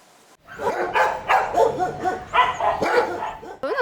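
A rescued dog at an animal shelter in Dnipro, brought from Marhanets, barks loudly and close by in a rapid run of repeated barks and yips after a brief quiet start.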